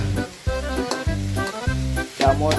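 Tomatoes hitting a hot frying pan alongside onions, giving a steady close sizzle with repeated low thumps and stirring scrapes in a regular rhythm, no voices.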